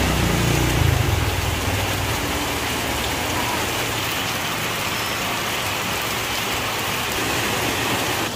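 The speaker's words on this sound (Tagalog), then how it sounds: "ang lakas ng ulan" Heavy afternoon rain pours down steadily at close range, a dense, continuous hiss of drops drumming on surfaces, with a faint engine-like rumble beneath and no voices.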